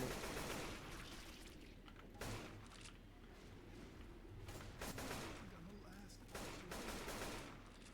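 Gunfire in the zombie shooter Left 4 Dead 2 comes as repeated faint bursts and shots, rising and falling over a steady game background.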